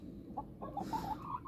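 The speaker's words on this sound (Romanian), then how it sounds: "și găinile sunt bine, mănâncă și ele la ora aceasta." Farmyard chickens clucking as they eat, a few short soft clucks spaced across a moment of low background noise.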